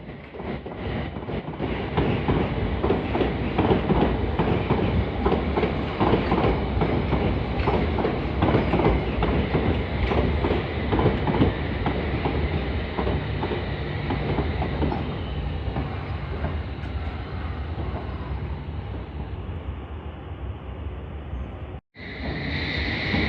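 London Underground train 21007 pulls away for Aldgate, a steady loud rumble of wheels and motors that holds for about twenty seconds before easing, with a brief cut near the end.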